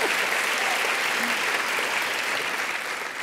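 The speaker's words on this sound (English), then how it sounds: "that deserves a round of applause" Audience applause at an evening parent education event, steady and dense clapping from a full room that holds at a constant level for about three seconds.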